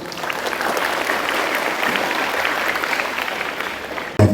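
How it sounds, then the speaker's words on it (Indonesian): Audience at an athletes' and coaches' motivational gathering in Bojonegoro bursts into steady, dense applause that holds at full strength for about four seconds, then cuts off abruptly into a loud closing thump. "Tepuk tangan dulu."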